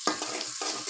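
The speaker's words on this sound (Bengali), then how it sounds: "এখন একটু নেড়ে চেড়ে নিব।" Two beaten eggs with salt being stirred in a bowl, quick repeated scraping strokes in a short rhythmic burst, close and clear with no talking.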